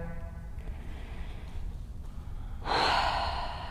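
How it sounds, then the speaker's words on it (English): Deep breathing during a yoga flow class in a studio: quiet, steady breaths, then a louder, airy exhale up close near the end, with no talking. "Round and wholesome breaths here."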